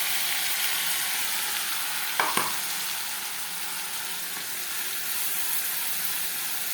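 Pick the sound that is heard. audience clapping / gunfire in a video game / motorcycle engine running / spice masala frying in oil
spice masala frying in oil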